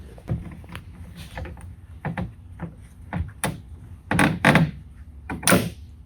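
A reproduction plastic center garnish trim for a Toyota AE86 is pressed onto the car, its clips snapping and knocking into place with a series of sharp, close clicks and thuds, the last few louder.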